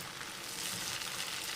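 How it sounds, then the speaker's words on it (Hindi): Almonds, cashews and kernels sizzle and fry in hot ghee for a tadka, a steady dense crackle with no pauses and no one speaking. "अभी सिर्फ हम बादाम और काजू और गिरी को ना रोस्ट करेंगे, ठीक है। तो इस चीज़ का हम तड़का लगाते हैं"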